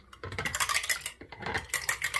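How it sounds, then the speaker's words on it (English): A whisk beats dalgona coffee in a bowl at home, rapid rhythmic clinking and scraping strokes in steady bursts, close and fairly quiet with brief pauses between runs. "We are whisking."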